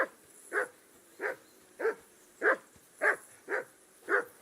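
In Kingdom Come: Deliverance 2, the dog Mutt barks eight times in a steady rhythm, moderately close, with no voices over the barks.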